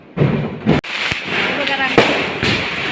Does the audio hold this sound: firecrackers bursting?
yes